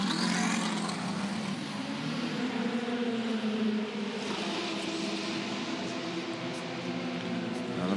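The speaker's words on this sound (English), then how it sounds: "Number 14 Porsche out and away." At the 2014 24 Hours of Le Mans, the number 14 Porsche race car pulls out of the pit lane with a steady, droning engine note that holds level for several seconds, heard from a distance.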